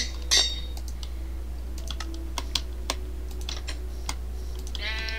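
Quick bursts of keystrokes on a computer keyboard while typing a name into Minecraft, scattered irregular clicks over a steady low hum, with a short rapid flurry near the end.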